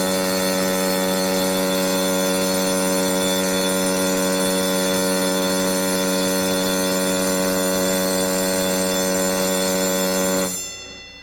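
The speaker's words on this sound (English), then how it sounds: "The general alarm for fire and emergency sounds like this." A ship's general alarm for fire and emergency blares as a loud, continuous buzzing ring with a steady tone for about ten seconds, then cuts off abruptly.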